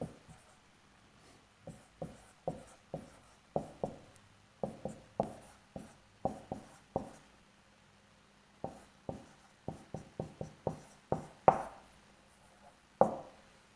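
Chalk or marker strokes on a lecture-hall board, a quick series of short tapping, scraping strokes in bursts with brief pauses, fairly close and clear with no talk over them.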